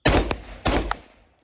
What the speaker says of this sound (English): I'm gonna cycle that action a few times, reinsert, recycle it, and bring it up and shoot.